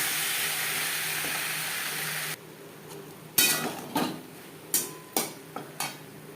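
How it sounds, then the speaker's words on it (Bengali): Spices being mixed with mankochu (giant taro) in a pan, heard as a steady sizzle and then several sharp, close scraping and clanking strikes of a spoon against the metal, spaced irregularly. "মশলা কচুর সাথে বেশ ভালো করে মিক্স করে দেবো।"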